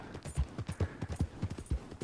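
A horse's hooves in Red Dead Redemption 2 clip-clop in a steady, even rhythm, each hoofbeat a close, punchy thud repeating about every quarter second with nothing else over it.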